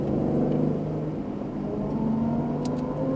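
An Aston Martin Vantage runs at full throttle on the Speed Vegas track, heard from inside as a loud, sustained engine drone that holds a fairly even pitch, with no talk over it.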